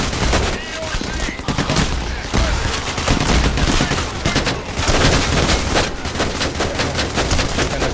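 Dense, loud gunfire rattles nonstop in a Payday The Heist shootout on a bridge, bursts of automatic and single shots overlapping for the whole stretch.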